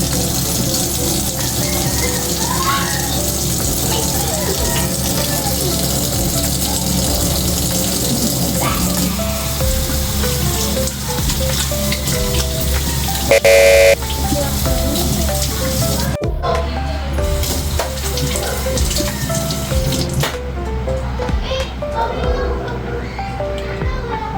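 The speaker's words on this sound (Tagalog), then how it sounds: "Tuwing maghugas ng kamay, huwag hayaan nakabukas ang gripo." Water streams steadily from an open tap during handwashing, a continuous splashing rush with children's voices and talking over it.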